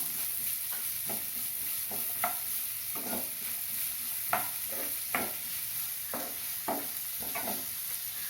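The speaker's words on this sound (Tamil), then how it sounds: "நாலு வெங்காயம் பொடியாக அரிஞ்சு வச்சது அதையும் சேர்த்து வதக்கணும்" Chopped onions sauté in a pan with cinnamon and cloves for an Indian spicy egg capsicum masala. A soft steady sizzle runs under irregular scraping stirs.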